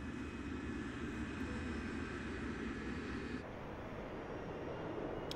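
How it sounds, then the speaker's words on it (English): In the video game Grand Theft Auto V, an airplane flies with a steady, moderately faint engine drone, continuous and unbroken, with no talk over it. "So he's taking a plane there"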